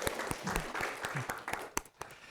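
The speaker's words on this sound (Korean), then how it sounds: "큰 박수로 한번 격려하겠습니다." A church congregation applauding to welcome a new choir member, scattered claps that build into a short burst and then fade, fairly faint.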